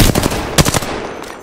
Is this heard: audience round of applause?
no